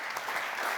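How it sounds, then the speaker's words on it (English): At the De Gouden Noot 2024 packaging innovation award ceremony, an audience gives a brief burst of steady clapping, moderately loud and heard alone. "Please give them one round of applause."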